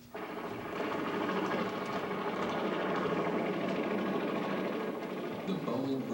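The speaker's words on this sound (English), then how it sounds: "The Boeing VTOL Chinook, the Western world's standard medium-lift helicopter for almost 30 years" Boeing Chinook tandem-rotor medium-lift helicopter, a steady dense rotor chop and turbine roar that swells in within the first second and holds loud and continuous.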